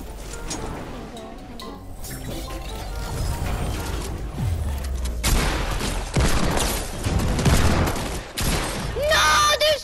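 Shotgun blasts and mechanical weapon clatter in a Fortnite Battle Royale match come in bursts of loud, sharp reports amid game effects, with a player talking over the action.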